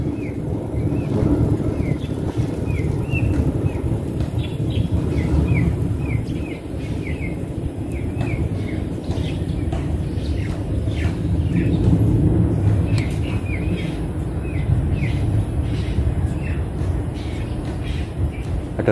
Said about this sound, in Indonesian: Ada burung Sri Genting sepertinya.